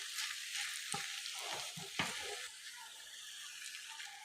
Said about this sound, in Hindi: अब इसके अंदर आलू को अच्छी तरह मिक्स कर लीजिए ताकि हमारे प्याज और गाजर में आलू अच्छी